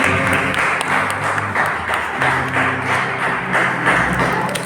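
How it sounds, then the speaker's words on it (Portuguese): Congregation clapping in a church service, a rhythmic round of applause with audible individual claps over a sustained musical backing, fairly close and loud. "Vamos iniciar dando uma salva de palmas ao nosso Deus"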